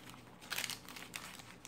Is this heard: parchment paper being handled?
yes